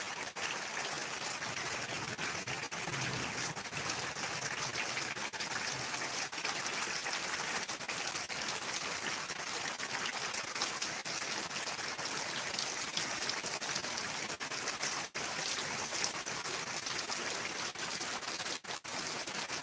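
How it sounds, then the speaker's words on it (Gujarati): Heavy monsoon rain pours down in a steady, dense hiss that stays constant throughout, with occasional faint sharp taps. "બહુ ધોધમાર વરસાદ પડે છે"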